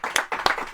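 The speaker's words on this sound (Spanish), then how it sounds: "Pues un aplauso." Audience at a book presentation in a bookshop starts clapping, a few sharp, scattered claps close together in a short burst rather than a full ovation.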